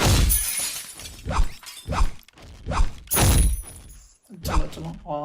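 A window shatters in the Roblox game, with sharp breaking bursts heard between stretches of someone talking throughout.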